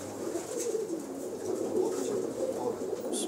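Several high-flyer pigeons at a large loft coo in soft, repeated low calls, close by and continuous, with faint chirps from other birds.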